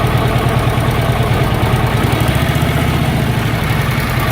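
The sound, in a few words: vintage Harley flathead engine idling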